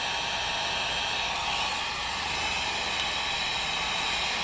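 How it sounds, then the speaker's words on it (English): A blow dryer or heat shrink gun on low blowing over a leather repair on a Porsche 911 Turbo S, producing a steady, even hiss of rushing air throughout. "I can use a blow dryer or a heat shrink gun to speed the curing process along"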